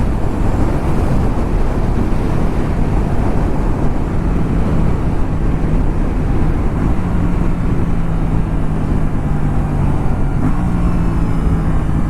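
An Aprilia RS 457 motorcycle decelerating on a highway with its quickshifter's auto-blipper active; a steady engine drone sits under constant loud wind roar, with a few faint stepped rises in pitch as it blips through downshifts.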